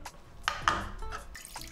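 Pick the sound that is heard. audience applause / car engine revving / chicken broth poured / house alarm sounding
chicken broth poured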